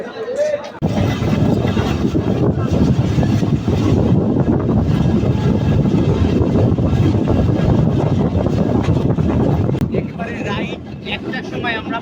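Aboard the Nakshikantha commuter train pulling out of Padma rail station, a loud continuous rumble of wheels and carriage rattle fills the space with wind buffeting, while people talk beneath the din.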